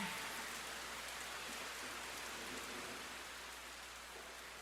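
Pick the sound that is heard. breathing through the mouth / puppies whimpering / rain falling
rain falling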